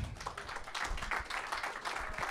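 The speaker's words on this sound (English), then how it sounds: "let's give him a round of applause" Faint, distant applause from an audience at a summit in Phoenix, a soft patter of many hands clapping in uneven pulses for a couple of seconds.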